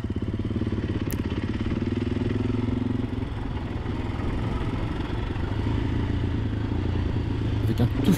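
A 450 dirt motorcycle eases down a Merzouga sand dune on light throttle, its engine a steady, close, low rumble with a regular pulsing beat that holds nearly constant, with a brief click near the end.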